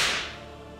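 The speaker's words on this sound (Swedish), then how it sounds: "med piskan slår knäppsmällar på slavens bara kropp" A single sharp whip crack gives a sudden loud snap that decays over under a second, heard alone with no voices.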